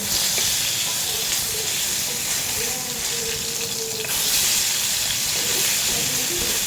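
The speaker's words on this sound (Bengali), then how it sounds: "এখানে কিছু ইলিশ মাছ নিলাম, ইলিশ মাছগুলা একটু ভেজে নেই।" Hilsa fish pieces frying in a pan give off a constant, moderately loud sizzle with faint background sounds underneath and a brief swell near the middle.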